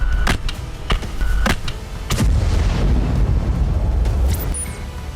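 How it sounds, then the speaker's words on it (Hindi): A powerful explosion strikes a tank amid Gaza war fighting, with several sharp loud blasts early on followed by a heavy, rumbling roar that lingers and slowly fades. "टैंक में जोरदार धमाका हुआ"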